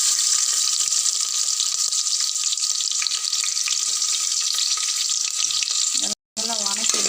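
Chopped onions and curry leaves sizzle loudly and continuously in hot oil with a cinnamon stick, the start of a green masala chicken curry, with a brief break just before the end.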